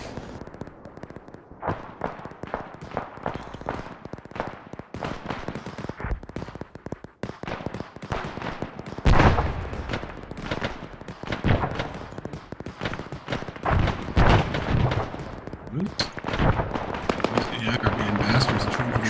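Artillery pieces (D-30 guns) being blown apart with anti-tank weapons in Arma 3: a dense run of sharp blasts and cracks, gunfire-like bursts thickening into heavy, loud overlapping explosions in the second half, with voices talking underneath.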